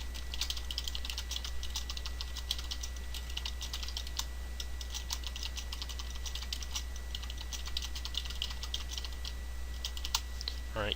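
Someone types on a computer keyboard, with faint, steady, rapid key clicks running throughout over a low background hum.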